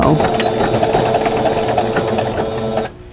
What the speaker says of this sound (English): let's see if I can sew straight so I'm just going from that point to this one to this one and then down